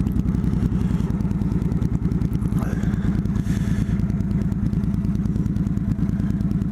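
A motorcycle rides at slow speed with a troublesome clutch, its engine a loud, close, steady low throb with some clatter throughout.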